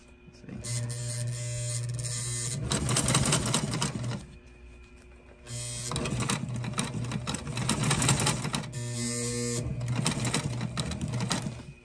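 A sewing machine stitches lowrider seat upholstery in close, steady bursts of rapid stitching, pausing briefly between runs, with a low motor hum beneath the needle clatter.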